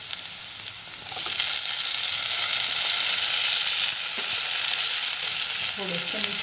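Onion and tomato frying in hot oil, a loud, steady, close sizzle that rises sharply after a quieter first second and holds, with a couple of faint stirring knocks near the end.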